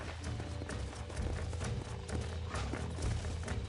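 Horse hooves clip-clop steadily in the western video game Red Dead Redemption, a quick, even rhythm of close, fairly loud hoofbeats with faint background noise and no talking.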